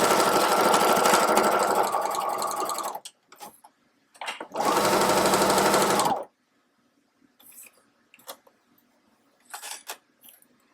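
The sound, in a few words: sewing machine stitching around a tote bag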